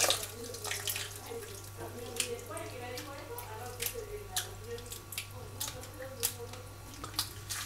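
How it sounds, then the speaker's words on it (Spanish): Tap water running over chopped onion being washed in a sink, a quiet steady trickle with small splashes and clinks, plus a constant low hum in the room. "Ahí vamos a echar un poco de agua"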